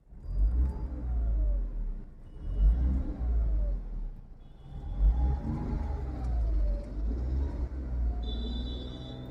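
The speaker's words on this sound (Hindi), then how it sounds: "एक बार रेव कर लेते हैं।" A 2023 Tata Tiago with a BS6 phase 2 three-cylinder petrol engine revs repeatedly, several rising and falling swells of engine rumble heard close and fairly loud, with no talking.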